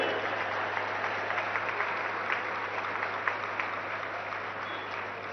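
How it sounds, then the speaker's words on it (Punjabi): An audience at a public gathering claps loudly and steadily for several seconds, a dense sustained applause with a few sharper claps standing out, and no talking over it. "ਇੱਕ ਵਾਰੀ ਆਪਣੇ ਆਪ ਲਈ ਜ਼ੋਰਦਾਰ ਤਾੜੀ ਮਾਰ ਲਓ"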